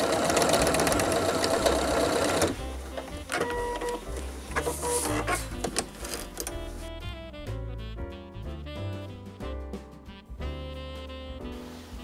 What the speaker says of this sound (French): je vais venir coudre ça à la machine, là, 2 petits points, juste pour maintenir ça en place